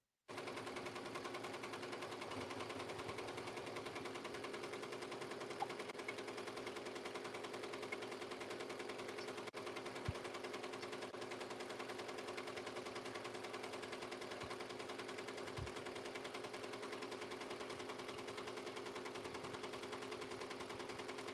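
A Ricoma Marquee 2001 embroidery machine stitches fabric with a fast, steady mechanical chatter that runs continuously, fairly quiet, broken only by a couple of faint knocks.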